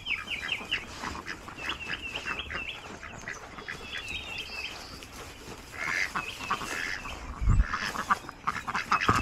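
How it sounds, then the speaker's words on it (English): A group of ducks quacks repeatedly at feeding time on a small farm kept alongside goats, with bursts of nasal calls mixed with chicken-like clucks, fairly close and busy throughout with no talking. "Look, here comes the ducks."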